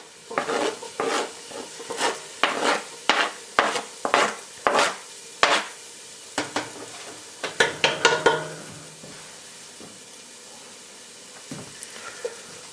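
Green peppers and onions sauté in a pan, with a run of sharp, rhythmic stirring scrapes and clacks over a faint sizzle, then a quieter stretch with a few scattered clinks.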